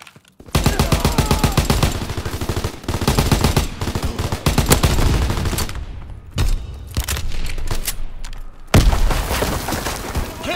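Relentless automatic gunfire in a Call of Duty multiplayer match on the Docks map, loud rapid bursts with brief gaps and heavier booms, dense and close throughout.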